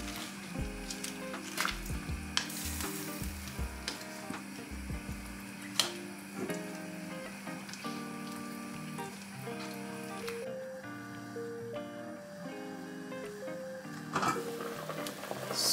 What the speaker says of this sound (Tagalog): Lagyan lang natin siya hanggat maluto siya. Then, ipakulo na rin natin ang ating pak choy.